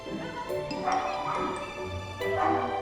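A pet dog's short yips and whimpering barks at a dog agility session, several quick bursts close by, with crowd noise around them.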